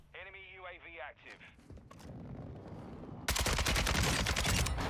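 Heavy bursts of gunfire erupt in a solo Warzone 2.0 match, a loud, dense volley filling the last stretch after quieter game sounds and a short tonal effect at the start.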